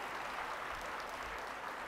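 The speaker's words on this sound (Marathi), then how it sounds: "आता या टाळ्या तुमच्यासाठी आहेत" An audience at a Guru Purnima spiritual discourse gathering claps in a dense, steady wash of applause, moderately loud and continuous for the whole short stretch with no talk.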